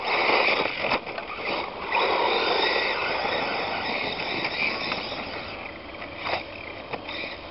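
A Traxxas Rustler VXL RC car spins its wheels in very soft dirt, with a whiny electric motor and a gritty scrabbling hiss that swell and ease under light throttle, punctuated by brief sharp clicks.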